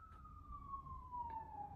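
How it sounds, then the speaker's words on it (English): A single emergency siren passes outside on a Los Angeles street: a steady wailing tone slides slowly downward as it goes by, moderately distant, over a low traffic rumble. "hold for siren."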